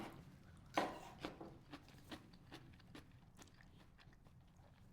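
A bite into a crunchy, juicy bell pepper in a garden, one sharp crisp crunch followed by a string of softer, irregular chewing snaps, close up and fairly quiet, with no talk over it.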